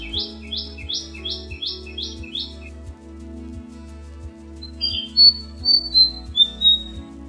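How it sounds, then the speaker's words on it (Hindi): Birds chirp and squawk in a quick run of repeated calls, then sing a few higher whistled notes later, heard over a steady low music bed on a morning in the hill town of Chakrata, Uttarakhand, India. "और पक्षी जैसे मुहैया करा रहे हैं बैकग्राउंड म्यूजिक"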